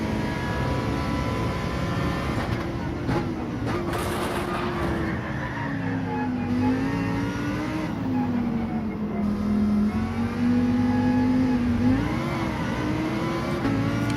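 Race car engines roar continuously in Gran Turismo 7 during a Gr.3 race at Trial Mountain, with an AMG and a Ferrari among the cars, and the engine pitch rises and falls through gear changes and cornering, loud and close throughout.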